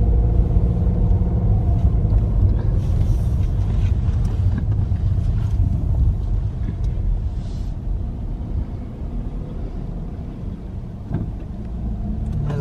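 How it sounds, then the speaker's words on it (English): Steady low rumble of car traffic idling and creeping out of a small plaza in Cumberland, Maryland, heard from inside a vehicle, continuous and fairly loud throughout with no talk. "A lot of traffic trying to get out of this little plaza."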